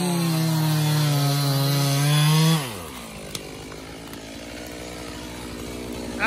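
A chainsaw cutting cherry logs into 16 to 18 inch firewood rings loudly at high revs, then bogs down and drops to a lower grinding note as it bites through the wood, close by.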